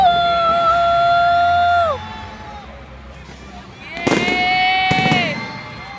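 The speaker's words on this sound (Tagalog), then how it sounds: "Look at the fireworks! Fireworks!" Fireworks display bursts twice in quick succession near the end, loud and close, while excited voices shout and cheer over sustained musical tones throughout.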